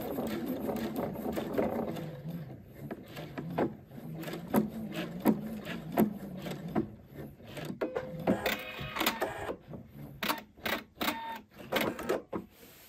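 A sewing machine stitches fabric for a homemade Christmas calendar, working out from the seam toward the edges, in close, uneven runs of rapid clicking and whirring broken by short stops, with no voices.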